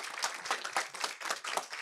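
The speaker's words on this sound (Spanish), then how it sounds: "Un aplauso, por favor." Audience applause at a conference talk on designing the employee experience in digital environments, a short burst of many hands clapping at moderate loudness, with no talking.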